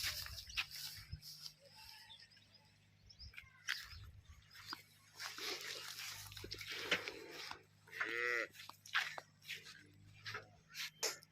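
A red Jersey and HF cross cow lows several times at moderate distance, with long, drawn-out moos among quieter farmyard sounds and a low steady background hum.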